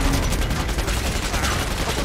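Dense, continuous gunfire in the shooter game Killing Floor 2, a loud unbroken rattle of rapid shots filling the whole moment, with a player's voice faintly beneath.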